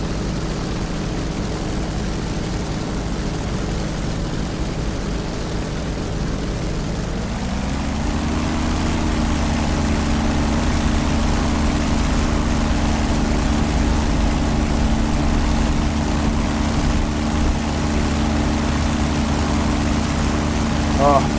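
A carrier plane's propeller engine drones steadily in a warplane video game, a loud continuous low hum that rises in pitch partway through and then holds, with no talk over it.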